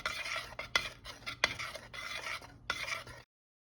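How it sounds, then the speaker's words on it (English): Spoon stirring tapioca pudding in a pot as it thickens, a close, quiet run of scraping and clinking strokes in an uneven rhythm, then silence at the end. "now I'm supposed to just stir this until it thickens"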